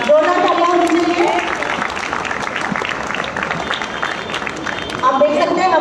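Sustained applause from an audience at a police dog demonstration event, dense clapping filling the whole stretch, steady and fairly loud, with some voices mixed in.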